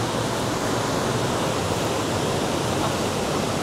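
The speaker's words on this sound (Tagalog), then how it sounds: "ang lakas ng current ng tubig ngayon" A steady, loud rush of fast-flowing river water near Wawa Dam in Montalban fills the whole stretch, a dense unbroken roar with no voices.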